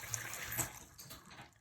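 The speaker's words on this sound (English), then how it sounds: "the water's draining right through now" Water drains down a bathroom drain, a soft, steady gurgling wash that swells briefly and then tapers off, close by and alone.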